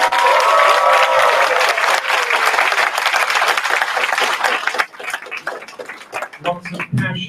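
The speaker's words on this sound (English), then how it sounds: "Let's give them both a big round of applause." Loud audience applause with cheers and whoops at a Melanesian school debate, a dense burst of clapping that thins out toward the end as a voice begins speaking.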